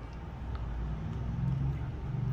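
Traffic noise drifts in from a street outside a phone repair shop: a steady low rumble of passing cars and road noise, fairly loud and continuous, with no talk over it.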